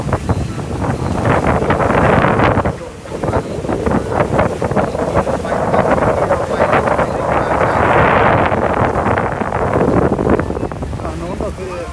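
Boat crossing open sea toward Racha Yai island off Phuket, a steady loud rush of engine, hull and water with heavy wind buffeting the microphone throughout, briefly dipping then building again.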